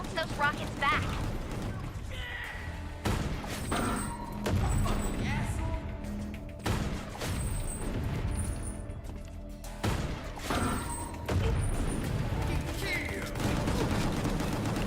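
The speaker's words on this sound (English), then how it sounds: "You can bounce those rockets back." Rockets and gunfire in an action video game, with repeated bursts of shots and explosive impacts that keep up dense and loud across the scene, while a player talks over the noise.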